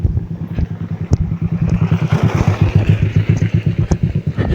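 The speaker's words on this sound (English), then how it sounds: "that's a motorbike guy collecting milk from the farmers to take it to the dairy" Close motorbike engine chugging in a fast, steady pulse as a rider collects milk from farmers to take to the dairy, loud and mostly alone with a few clattering knocks.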